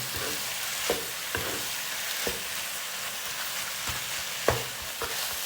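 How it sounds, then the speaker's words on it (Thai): Chicken breast stir-fried with fresh lemongrass chili paste over gentle heat, a constant sizzle broken by several sharp spatula scrapes against the pan at uneven intervals, close up and without voices. "ผัดไม่ต้องไฟแรงนะคะค่อยๆผัดจนแห้งจนสุกทุกอย่างเข้าด้วยกัน"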